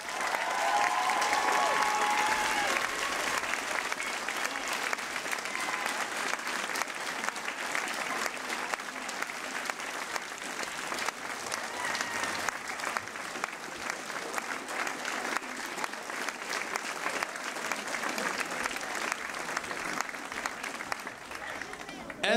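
Sustained audience applause fills a hall at a Frisian song festival, a dense steady clapping that carries on at full strength throughout, with a brief voice or tone rising through it near the start.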